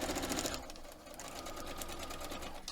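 Sewing machine stitching a seam in quilting fabric for a foundation paper pieced block, a steady rapid whir of needle strokes running continuously, close and fairly loud, with no talking.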